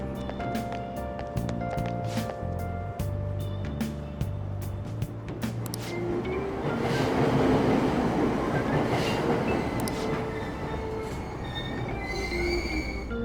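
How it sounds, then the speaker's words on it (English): A subway train in the Persona 5 Royal video game pulls out of a station, starting with rhythmic clicking and chimes, then building into a loud rolling rumble with squealing wheels, close and continuous. "Train doors are now closing. Please stand back."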